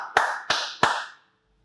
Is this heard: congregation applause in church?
yes